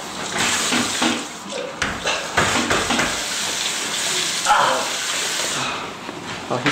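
Running water splashing at a sink as a young man washes his face, continuous hissing flow broken by irregular splashes, with faint voices in the background.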